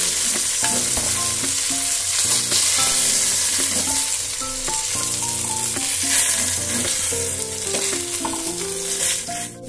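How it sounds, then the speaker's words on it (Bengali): Cumin seeds, dry red chillies and bay leaves hit hot oil for tempering, giving a loud, steady sizzle and crackle that lasts throughout, with tonal music playing over it. "তেল গরম হয়ে গেছে, এর মধ্যে আমি জিরে শুকনো লঙ্কা তেজপাতা ফোড়ন দিলাম"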